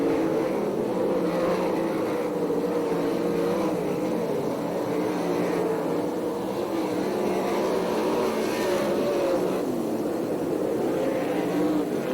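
Sprint cars race on a dirt oval at Perris, California, a loud continuous engine roar from the pack that swells and fades slightly as cars pass along the back straightaway.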